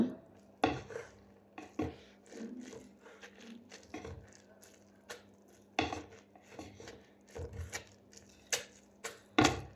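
Pestle pressing pounded grated chutney down firmly makes a series of irregular dull thuds and knocks against the vessel, quiet with gaps between strikes.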